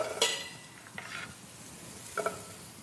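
Carrots dropped into a dry pan with no oil give short sizzling crackles, a couple of quick bursts over quiet background, faint and close.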